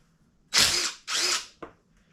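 A ratchet with a 10mm socket working the brake caliper bolts on an Aprilia SR50 scooter gives two close, quick whirring bursts and a short final click, with quiet between them.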